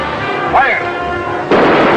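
Cannon fire from a ship in a 1945 pirate film, loud booming blasts under a shouted order and excited voices, with a second heavy report near the end.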